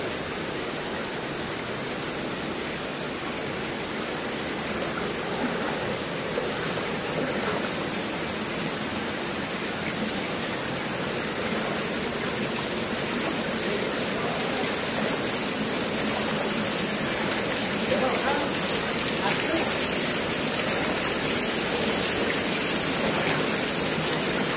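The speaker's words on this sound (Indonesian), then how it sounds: "kita harus melewati air sungai ini yang cukup dalam" A fairly deep village river, on the way to a waterfall, rushes steadily in a broad, unbroken roar of flowing water, loud and close, without talk, for the whole stretch.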